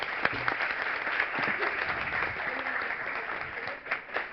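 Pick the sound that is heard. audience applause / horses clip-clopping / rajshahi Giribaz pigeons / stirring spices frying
audience applause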